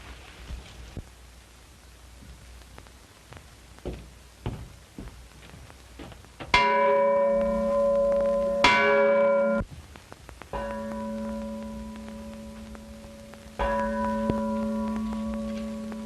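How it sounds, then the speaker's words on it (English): A bell in a Western adventure film rings out in a few loud, resonant strikes, each tone lingering, after a stretch of faint ticks and rustles. "Well, there goes the bell."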